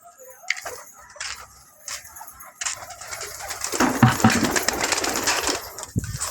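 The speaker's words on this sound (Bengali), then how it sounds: "এটা হলো মাদি পায়রা" Domestic pigeons coo close by in short soft bursts, with a fluttering, rustling stretch near the end, and no one talking over them.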